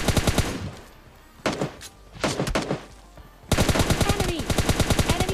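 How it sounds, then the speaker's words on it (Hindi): Rapid automatic rifle fire in PUBG Lite, a Scar-L on a battle royale map, loud and close: an opening burst, a few separate short volleys, then a long sustained string of evenly spaced shots. "इधर से मैं कुछ रैंडम फायर देता हूँ"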